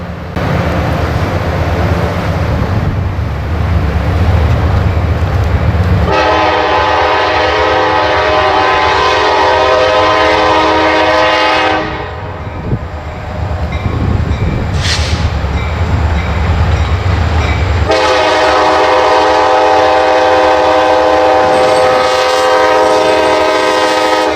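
A Wheeling and Lake Erie Railroad freight train on the Chicago, Fort Wayne and Eastern line near Crestline rumbles past loudly, its horn blaring in long sustained blasts with a short break midway.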